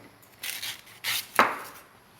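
A knife scrapes and cuts at a santol fruit, three short rasping strokes close by, the last ending in a sharper click, with no talk over them.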